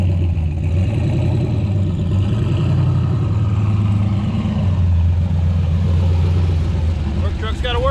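A V8 gasoline work truck engine runs steadily and close, a low droning rumble with rattling clatter that holds through the whole stretch.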